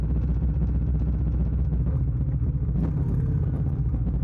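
A motorcycle engine runs under throttle on a 1 AM solo night ride, a steady dense low drone with rhythmic pulsing, loud and close throughout.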